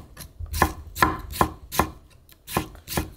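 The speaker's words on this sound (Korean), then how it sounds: "이렇게 떼어내고 얄팍얄팍 썰어주세요" Knife slicing pickled cucumber (oiji) thinly on a cutting board, about eight crisp, evenly spaced chops ringing out close and clear with no talk.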